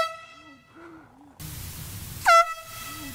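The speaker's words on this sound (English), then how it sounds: "blowing an air horn" On a golf course, an air horn gives a long, loud blare that fades out, followed moments later by a second, sharper blast, with quieter background noise in between.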